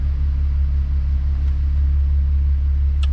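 A Nissan Skyline R32 with no brake pedal pressure, its engine idling in a loud, steady low rumble close by, unchanging for the whole stretch, no one speaking.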